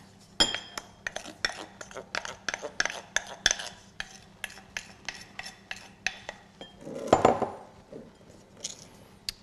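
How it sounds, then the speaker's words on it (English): Softened butter creamed with sifted icing sugar in a bowl: a close series of sharp, irregular clinks and taps of a utensil against the bowl, with a brief scraping swirl partway through. "I'm just going to cream that with some sifted icing sugar."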